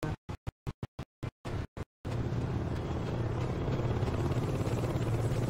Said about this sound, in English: I hear helicopter, but I don't see helicopter.